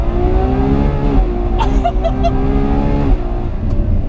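A Ferrari 812 Superfast accelerating hard around the Fiorano track, its loud, close engine climbing steadily in pitch with brief dips at gear changes.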